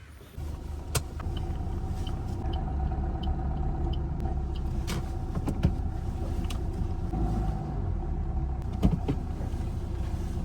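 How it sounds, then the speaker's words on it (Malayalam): Inside a Maruti Swift automatic car being driven, a steady low road-and-engine rumble fills the cabin throughout, broken by occasional small clicks and ticks from the interior. "ഇത് സ്വിഫ്റ്റ് വണ്ടിയാണ് കേട്ടോ ഇത് ഓട്ടോമാറ്റിക് വണ്ടിയാണ്"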